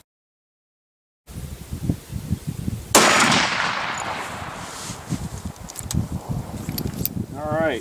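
A .500 Magnum round strikes a steel target, a single sharp loud crack followed by a decaying ring, with someone talking before and after the impact.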